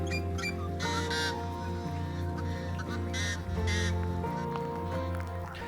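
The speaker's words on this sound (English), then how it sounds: "There's so many yellow-headed blackbirds." Harsh, buzzy yellow-headed blackbird calls repeat in bursts over a dense chorus of chatter and whistles, like a busy marsh colony, in wet weather in northern Utah.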